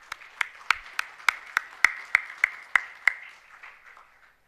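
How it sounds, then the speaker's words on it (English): Round of applause from an audience at a stage ceremony, heard as about a dozen crisp, evenly spaced claps in a steady rhythm, close and fairly loud, thinning into a softer patter at the end. "Can we have a big round of applause"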